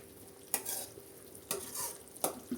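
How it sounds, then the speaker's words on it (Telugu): A spoon scrapes through palmyra fruit peel curry simmering with water in a pan, three loud stirring strokes over a low, steady bubbling sizzle. "ఒకసారి మూత తీసేసి అయితే ఇలా కలుపుకోవాలండి"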